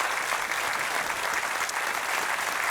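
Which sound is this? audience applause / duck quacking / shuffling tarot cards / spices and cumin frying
audience applause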